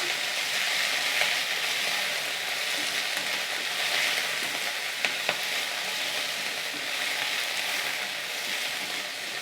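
Fresh coriander and mint leaves sautéing in a hot pan for chutney, making a continuous bright sizzle with light stirring scrapes, close and even throughout with no talking.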